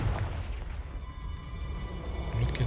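A Confringo explosive spell cast in Hogwarts Legacy, heard as a continuous loud rumbling burst with booming low-end energy that carries on for several seconds without a break.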